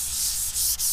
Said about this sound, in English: take this 180 grit and just start going over the whole thing